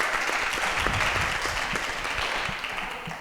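A crowd at a youth ministry gathering applauds steadily, a dense patter of many hands clapping at moderate volume that eases slightly toward the end.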